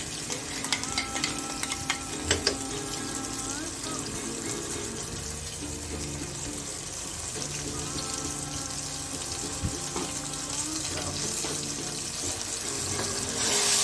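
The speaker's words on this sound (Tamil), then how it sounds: "இதை நல்லா எண்ணெயில் ஃப்ரை பண்ணுங்க" Ground paste of mint, coriander, green chilli and ginger-garlic frying in oil, a dense continuous sizzle and hiss with utensil scrapes near the start, close and loud, no voices.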